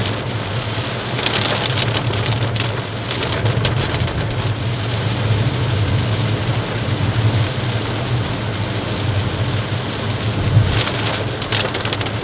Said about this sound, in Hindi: बारिश काफ़ी तेज़ हो रही है